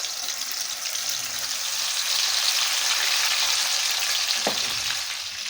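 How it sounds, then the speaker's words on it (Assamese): Chicken half-frying in hot oil crackles with a steady, dense sizzle that swells slightly midway, close and continuous, with a brief clink near the end. "এতিয়া মই চিকেনখিনি ফ্ৰাই কৰি ল'ম, মানে হাফ ফ্ৰাই কৰি ল'ম।"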